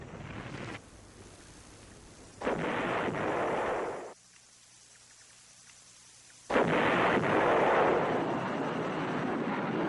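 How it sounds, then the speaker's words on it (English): Artillery fire and bombing from Vietnam War battles near Prek Lok come as broad, roaring rumbles. The bursts swell and stop abruptly, with a quiet gap between them, like loud blasts heard on an old film soundtrack. "Furious American bombing and artillery fire drove off the assaults."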